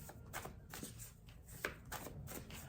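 Tarot cards are shuffled and drawn by hand with quick, faint riffling and flicking taps in a quiet room. A single sharper snap of a card stands out near the middle.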